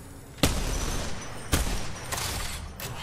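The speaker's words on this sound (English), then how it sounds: "Okay, back on the minigun." A minigun fires in a first-person shooter video game, a dense, continuous roar of gunfire with heavier bursts hitting at intervals, loud and close, with no voices.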